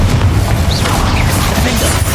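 A spell explosion from the Hogwarts Legacy video game lands as a loud, dense booming blast with rumbling crash debris that fills the whole moment at close range, with no voice over it.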